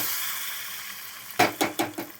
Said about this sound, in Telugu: ఆ పోపు గింజల్ని ఇందులో ఇలా వేసేయాలి.